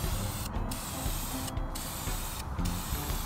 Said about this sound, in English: Now I'm applying primer to the sides of the car.